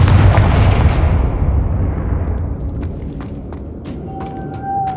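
A Confringo spell explodes in Hogwarts Legacy with a loud, deep blast at the start. Its rumbling tail fades over several seconds, and a few light magical chimes and tones follow.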